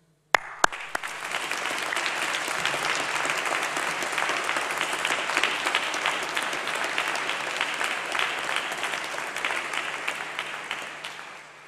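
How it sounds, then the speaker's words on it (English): A seated audience at a university graduation ceremony applauds the graduands' supporters. Dense, steady clapping fills a large hall, starts sharply after a couple of loud claps, keeps going, and fades slightly at the end. "let's give a big round of applause to say thank you to all your supporters"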